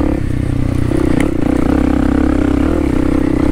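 A Kawasaki KLX300 dirt bike rides a wooded trail loop of ruts and turns, its engine droning loud and close at a steady, throbbing pitch, with light clatter over the terrain.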